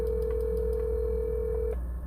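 A phone call being placed to another person, heard as a steady, loud single-pitch tone held for most of the clip before cutting off, with a low hum underneath and no talking.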